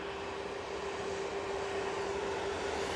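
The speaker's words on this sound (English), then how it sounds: "here comes the A321 Neo with half the decals missing" An Airbus A321neo arrives at Manchester Airport, heard as a faint, even engine drone carrying a thin steady whine over the top, distant and continuous with no talk.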